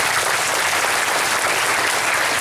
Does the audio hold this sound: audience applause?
yes